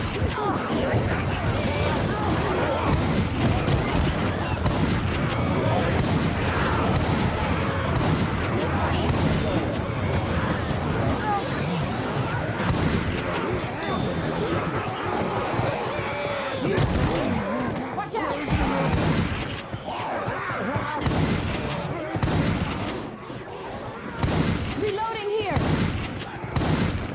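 Gunfire from Left 4 Dead 2 on the Heavy Rain level, dense continuous rapid shooting with scattered sharp cracks over a steady rain-like wash, with voices shouting over it.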